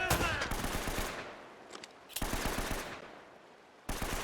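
Rapid bursts of automatic gunfire in a video game rattle in quick succession, pausing briefly between volleys, with a few scattered single shots.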